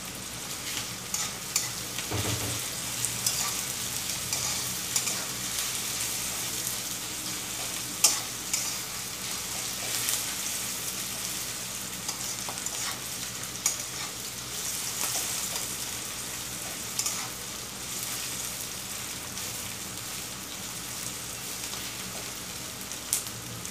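Onion fries in a pan before cut okra goes in, a soft continuous sizzle with repeated scraping stirs and clinks close by, no talk.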